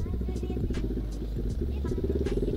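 Yamaha MX King motorcycle fitted with an aftermarket exhaust idling close by, a steady low throbbing rumble that holds even throughout.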